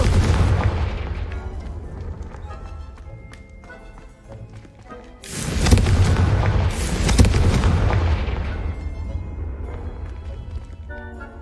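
Confringo spell blasts in the video game Hogwarts Legacy, deep booming explosions with rumbling tails over a busy game soundtrack, with one strong burst midway and smaller impacts around it.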